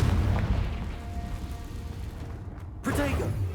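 Confringo blasting spell explosions in Hogwarts Legacy, booming blasts under loud shouted spell casting, with a sharper burst near the end.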